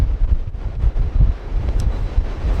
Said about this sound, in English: The wind hasn't really dropped, as you can probably tell.